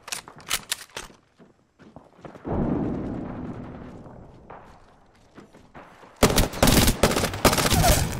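Bursts of automatic gunfire from an Apex Legends firefight, sharp rapid volleys at the start, a sustained rumbling barrage through the middle, then a loud dense stretch of rapid shots near the end.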